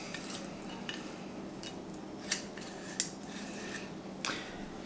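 A glass canning jar lid comes off a jar of freshly rendered lard, heard as a few soft, close metallic clicks and scrapes over a quiet kitchen background.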